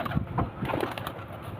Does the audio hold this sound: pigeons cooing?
yes